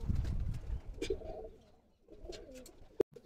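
Pigeons from a prized breeding line give a few soft, low coos close by in a quiet setting, with a brief sharp click near the end.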